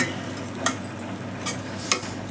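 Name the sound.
stirring coriander powder and garam masala into moong dal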